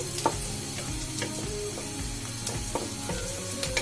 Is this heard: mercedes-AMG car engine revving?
no